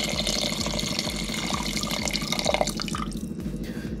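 Water pours into a cooking pot of meat trotters in a steady, quiet trickling stream that runs without pause, with a few soft splashes as the level rises.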